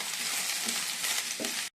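Okra frying in a pan makes a close, steady hiss of sizzling oil with a few soft stirring scrapes, cutting off abruptly at the end; no voices.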